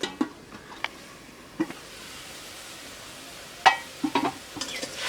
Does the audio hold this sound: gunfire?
no